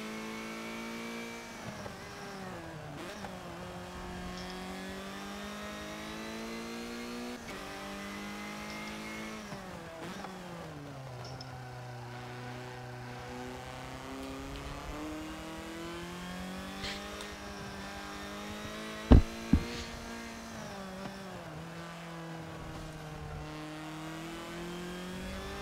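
Race cars in Forza Motorsport 7, played on a Thrustmaster TX wheel: a steady engine note climbs and drops through gear changes, with a brief loud bump near the end and no talk over it.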